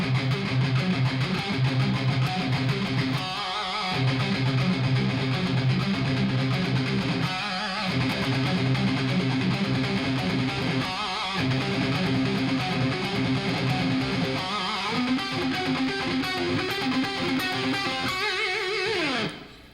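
An electric guitar with heavy distortion plays a fast rock solo, with tight rapid note runs punctuated by brief pauses and accented strums, loud and without any talk.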